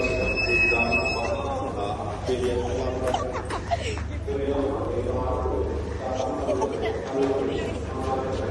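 A second-class passenger train rumbles along with rattling wheels and steady low drone, while a crowd of passengers chatters loudly throughout.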